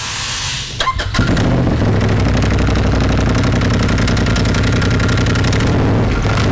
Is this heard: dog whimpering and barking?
no